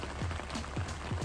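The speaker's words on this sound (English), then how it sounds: "We went from praying for rain to praying for it to stop raining." Steady rain patters and drums on surfaces outdoors as a dense, even hiss, with a few heavier drops landing near the listener.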